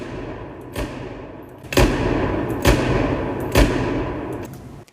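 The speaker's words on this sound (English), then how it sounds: "Gunshots and explosions are much more powerful." Video game gunshots and explosions played through a Schiit Modius DAC to JBL computer speakers: four heavy, booming thuds spaced about a second apart over a steady rumbling game background, with no talk.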